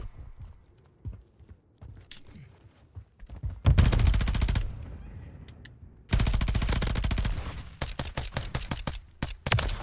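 Rapid automatic gunfire in Modern Warfare 3 free-for-all play, long loud bursts of rattling shots after a quieter stretch of scattered sounds, then a second sustained burst trailing into separate shots.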